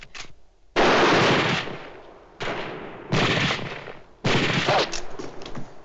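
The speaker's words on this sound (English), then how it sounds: "You can fire a rifle, too." Four loud, booming rifle shots from a 1955 western film shootout, each crack followed by a long echoing tail, spaced a second or so apart.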